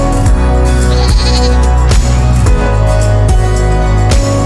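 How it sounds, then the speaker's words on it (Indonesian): Loud goats bleat repeatedly and close up, several overlapping calls from a herd of around eighteen female goats, with no talking. "Sekitar 18 kambing, betina semua itu."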